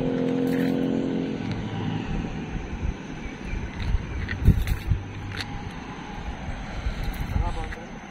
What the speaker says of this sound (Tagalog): doon na dadaan yung mga motor na yan sa baba